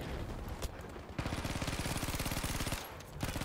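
Sustained machine gun blind fire in the Battlefield V video game, a dense, loud, rapid rhythmic burst running through most of the stretch with brief pauses between volleys.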